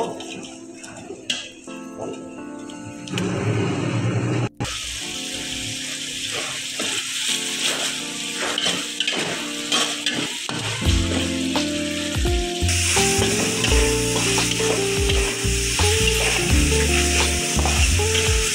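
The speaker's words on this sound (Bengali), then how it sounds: "শুটকিটা কিন্তু নেড়ে নেড়ে কষিয়ে নিতে হবে" Dried fish stir-fried with turmeric, salt, cumin and five-spice powder in a pan, loud continuous sizzling with repeated scraping and clinking of a spatula, close and busy, no talk.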